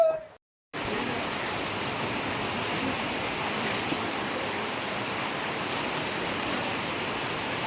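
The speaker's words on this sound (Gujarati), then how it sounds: "વરસાદ આવે છે વરસાદ" Steady rain pours outdoors at a river temple, forming a continuous even hiss that starts after a brief silent gap and holds unchanged to the end.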